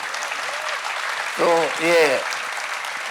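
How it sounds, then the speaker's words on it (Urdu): Audience applause at Jashn-e-Rekhta, an Urdu poetry festival, a steady broadband clatter of clapping throughout the short stretch, with a voice speaking briefly over it in the middle. "آپ لوگ بالکل ٹھیک ٹائم پہ تالی بجا رہے ہیں"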